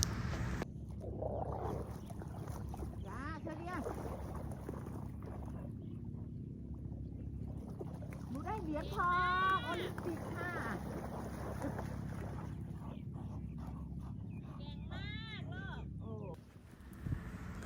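A boat moves across open water under steady engine drone and wind rumble, with voices talking over it and some high calls now and then.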